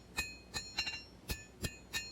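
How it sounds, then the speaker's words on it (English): A hammer forges a knife blade on an anvil with six or seven sharp metallic strikes at a steady, slightly uneven pace, ringing close and clear with no talking. "Now I'm hammering in a second set down"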